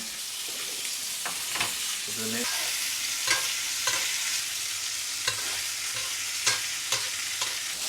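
Pork tenderloin sizzles in butter in a pan over lowered heat, a constant close frying hiss with scattered stirring knocks and scrapes.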